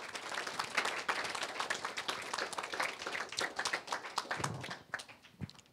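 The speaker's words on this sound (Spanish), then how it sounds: "Un aplauso a las ofrendas, por favor." A church congregation applauds the offerings during a service, a dense wash of clapping hands that holds steady for several seconds, then thins out and fades with a few stray claps near the end.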